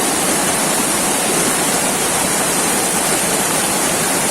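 Rushing water of the Curug Cibingbin waterfall roars nearby as a loud, dense, unbroken hiss that stays constant throughout.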